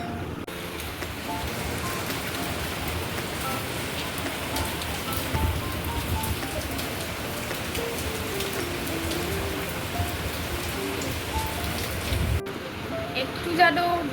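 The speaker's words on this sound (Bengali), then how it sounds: "তোমাদেরকে দেখাই কেমন জোর বৃষ্টি পড়ছে" Heavy rain pours steadily, a dense hiss of drops on surfaces close by, with a brief muffled shift near the end.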